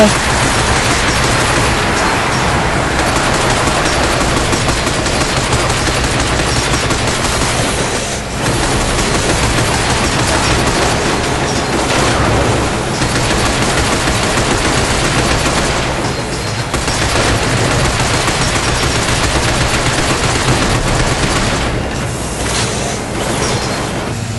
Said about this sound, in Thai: แต่ตัวถือปืนกลมายิงก็ลำบากเราแล้วนี่